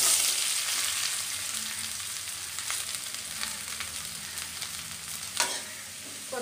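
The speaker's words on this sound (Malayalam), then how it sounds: "ഇനി കുറച്ച് വെളിച്ചെണ്ണ ചേർത്ത് കൊടുക്കാം. ഇതിലേക്ക് സവാള ഇട്ട്" Sliced onions sizzling in hot coconut oil in a heated pan, a steady close crackle and hiss running throughout with occasional sharper pops and stirring scrapes, no talking.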